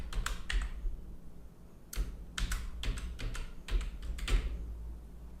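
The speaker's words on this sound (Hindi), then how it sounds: "जो भी आपकी कंपनी का नेम है वो आप यहाँ से टाइप कर सकते हैं।" Keys on a computer keyboard are tapped in short bursts of quick clicks separated by pauses, close and fairly quiet over a low background hum.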